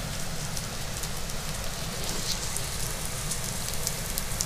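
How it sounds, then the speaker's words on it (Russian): Light rain falls in a steady, even wash of soft patter, close and continuous throughout, with no voices or other sounds. "Идет небольшой дождик."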